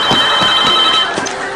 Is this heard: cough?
no